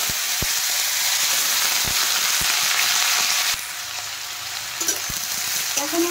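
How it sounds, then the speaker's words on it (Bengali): Potato and bottle gourd peels frying in mustard oil with black cumin seeds, a loud continuous close sizzle with a few sharp utensil knocks, easing slightly partway through. "এখন আমি আলু আর লাউয়ের খোসাগুলো দিয়ে দেব।"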